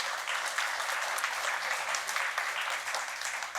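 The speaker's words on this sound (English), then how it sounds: "how about a round of applause for Chris" At a toy piano festival in a public library, an audience applauds steadily as a performer walks up to the stage, a dense, even clatter of hands throughout.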